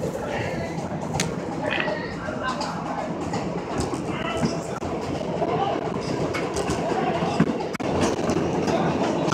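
An F subway train runs express on the Culver line, a steady loud rumble of wheels and car noise with occasional clicks and squeals throughout, a voice speaking over it.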